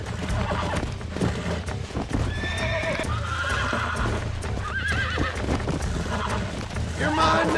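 A horse in the video game Red Dead Redemption whinnies and clip-clops on hooves while being roped and wrangled, with repeated neighs over a steady rumbling background and game score.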